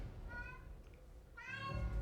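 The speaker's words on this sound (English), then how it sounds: "If you hear that in the background, that's our cat." A cat meows twice, a drawn-out cry, a short pause, then a louder, longer one, heard through low background rumble.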